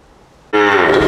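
A Holstein Friesian or Fleckvieh heifer at a cattle farm in Pabna lets out a single loud, close moo that starts abruptly and holds steady after a moment of quiet.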